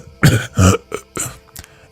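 A few harsh, close coughs in quick succession, the first two loud and heavy, followed by softer throat-clearing hacks.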